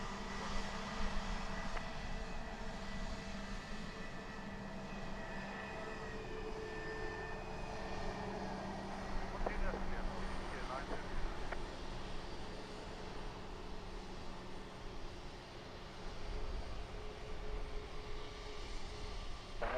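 An airliner takes off from runway 03 at Lanzarote Airport, heard as a steady, distant jet engine roar that swells slightly midway and holds throughout against outdoor background noise.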